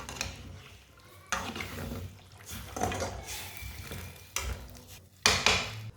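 Macaroni and water being stirred in a cooking pot, a spoon scraping and sloshing in several distinct bursts, close and clear, with quieter pauses between strokes.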